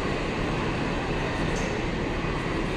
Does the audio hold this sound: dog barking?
no